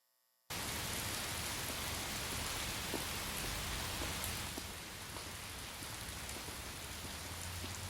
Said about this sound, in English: the rain sounds are already very noisy and mask everything